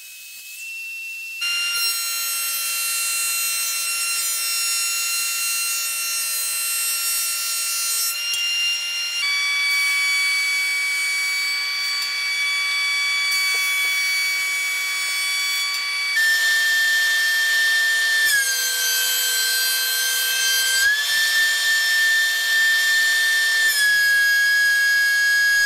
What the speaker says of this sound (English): Now I'm going to mill up some red oak and cover up those front of the plywood edges with rails and stiles